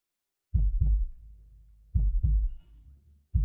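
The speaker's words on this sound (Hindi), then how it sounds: "मेरे दिल की धड़कन शांत क्यों नहीं हो रही है?" Heartbeat in a paired lub-dub rhythm, three deep thumping beats close and loud against silence, heard as a man lies in bed at night unable to calm his racing heart.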